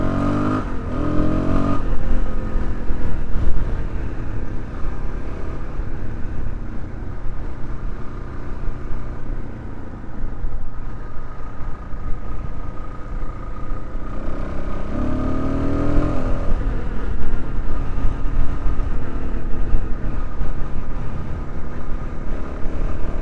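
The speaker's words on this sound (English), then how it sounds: "Let's grab a handful of throttle as soon as I get past this little gray SUV." A Suzuki DR-Z4S motorcycle pulls hard at full throttle on a road past traffic, its engine a loud, close, steady drone that rises in pitch through the gears, with brief shift dips around two and fifteen seconds.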